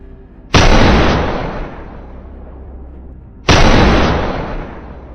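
Two sharp, booming rifle shots from a hunting rifle fired from a steady rest across a field at wild boar, each with a long rolling echo fading over about three seconds.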